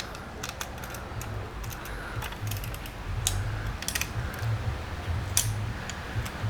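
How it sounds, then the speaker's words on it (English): A screw is tightened on a Tamiya Frog model kit, producing quick, close clicking and ratcheting ticks over a steady background hiss, with no talking. "I'll go ahead and tighten that up. Quite a tight thread, this one."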